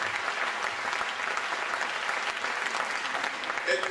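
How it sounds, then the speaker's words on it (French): An audience at the Gérardmer film festival applauds costume designer Deborah Nadoolman with steady, dense clapping from a large crowd, filling the hall without a break. "Je voudrais que vous applaudissiez Deborah, ici présente"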